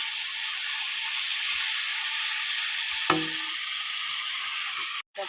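Spicy red cauliflower florets fry in a pan with a steady, close sizzle, broken by one brief clatter of a utensil near the middle.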